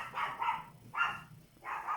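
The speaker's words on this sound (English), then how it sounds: "got my dogs barking" Several dogs barking outdoors, heard through open windows: three separate bursts of yapping barks at moderate distance, with quiet gaps between them and no talking.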